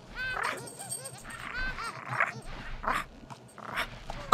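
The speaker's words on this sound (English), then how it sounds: "It's a puppy!" A puppy in The Sims 3 whimpers and yips in a run of high, wavering whines and short cries, fairly close and clear over quiet game background sounds.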